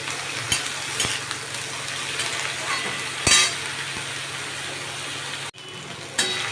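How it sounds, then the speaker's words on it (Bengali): Chopped potato and eggplant fry in a pan, giving a steady sizzle broken by sharp clicks and scrapes of stirring. The cooking sounds are close, with no one speaking. "এবার এই আলু বেগুনটাকে আমি ভালো করে ভাজবো"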